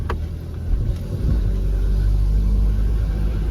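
A low engine rumble from a Nissan Sentra B14 with a noisy exhaust bracket underneath swells as the car picks up speed, then holds steady with a deep, constant drone.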